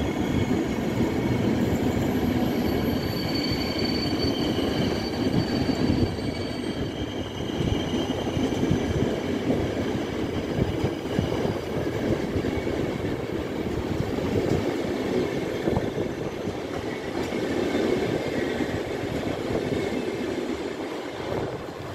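A train with an old restaurant car at Kraków Główny station, heard as a steady, loud rumble of rolling stock with rail noise and faint wheel squeal throughout, with no talking.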